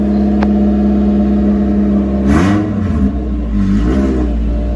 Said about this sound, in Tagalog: Ito na nga yung tambucho na pinakabit natin.